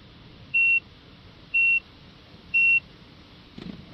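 Three identical high-pitched electronic beeps from a car diagnostic scan tool on a Peugeot sound at steady one-second intervals, each short and clear, over a quiet background.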